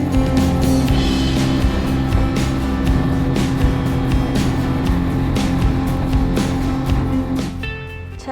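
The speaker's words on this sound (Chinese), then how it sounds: "乘坐着快艇先来到天井洞" A speedboat ride across Ha Long Bay in Vietnam gives a loud, steady engine roar with rushing water and hull noise throughout, easing off near the end.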